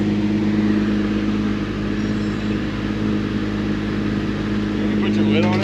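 An engine running steadily after a cold start following repairs, a loud, constant low rumble with a strong hum and no clear revving, close by, with faint voices mixed in.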